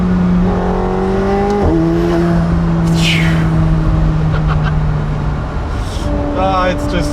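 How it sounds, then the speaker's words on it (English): McLaren 750S Spider with its twin-turbo engine, roof up on an Alpine road, revving steadily with rising and falling engine tones and brief whooshing turbo spool and flutter sounds, loud and close, under continuous cabin noise. "That way you can also get all of these turbo spooling sounds"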